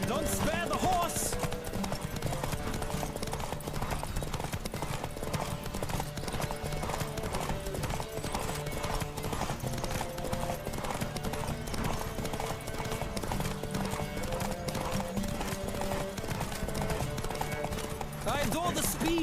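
Horse hooves clip-clop steadily at a racing pace through a race in The Witcher 3, with an occasional whinny, all under continuous game music and voices.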